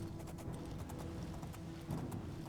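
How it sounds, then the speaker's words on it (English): Horse hooves clip-clopping in The Elder Scrolls IV: Oblivion, a steady repeated rhythm of close, moderately loud hoofbeats with no talking over them. "I think so far I've avoided taking any damage on my horse."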